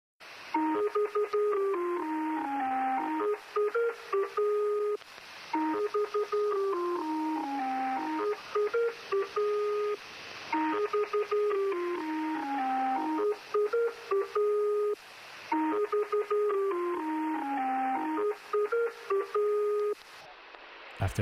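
An eerie synthesized melody repeats a descending phrase in steady loops over a phone line, thin and slightly distorted, with no voices.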